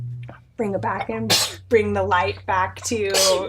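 A single sneeze bursts out in the middle of a person's steady speech, close and fairly loud, with talking continuing right after it.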